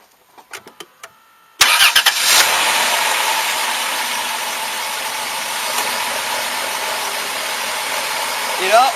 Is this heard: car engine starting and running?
yes